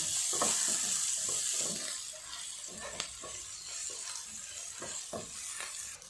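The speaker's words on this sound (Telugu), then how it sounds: "అలాగే ఒక ఒక పాటు కరివేపాకును కూడా వేసేసుకోవాలి వేసేసుకొని ఇలా కలుపుకోవాలి" Curry leaves are added to a hot pan with onions and stirred, giving a bright crackling sizzle with bursts of spatter and repeated scraping strokes, loudest at the start and easing slightly afterward.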